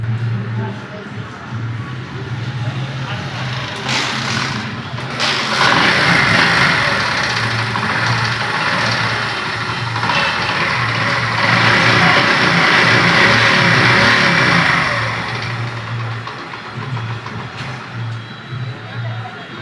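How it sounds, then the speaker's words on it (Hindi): A motorcycle engine runs steadily close by, idling with a low rumble, then revving up for several seconds before settling back; a voice talks over it. "ये देखें मोटर बाइकिल जो है बिल्कुल स्टार्ट हो गई है।"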